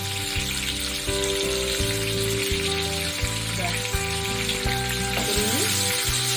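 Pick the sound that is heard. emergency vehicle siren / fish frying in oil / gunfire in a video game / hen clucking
fish frying in oil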